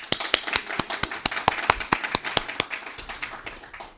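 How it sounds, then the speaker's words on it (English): A small group at a university signing event claps in a sparse, rhythmic pattern, each distinct clap sharp and close, continuing steadily for four seconds. "Let's give him a round of applause."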